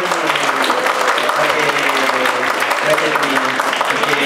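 An audience at a school reading carnival book review claps continuously through the moment, a steady, fairly loud patter of hands, with voices audible underneath.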